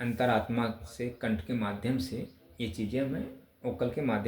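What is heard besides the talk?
None of the usual background noises is heard.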